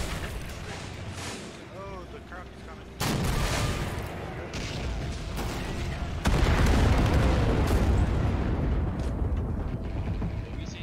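Explosions and gunfire boom through a Men of War Assault Squad 2 battle, sharp blasts at intervals over a constant rumble of combat, growing louder and denser in the second half.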